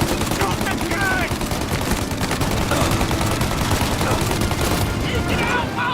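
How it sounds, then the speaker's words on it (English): Mounted gun firing in the video game Mafia: Definitive Edition, a loud, sustained burst of rapid automatic fire with continuous clatter and battle noise throughout. "Shoot the gun!"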